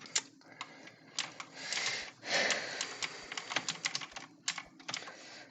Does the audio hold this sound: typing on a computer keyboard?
yes